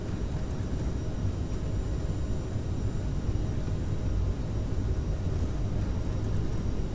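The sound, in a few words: CRJ7 jet takeoff roll in Microsoft Flight Simulator video game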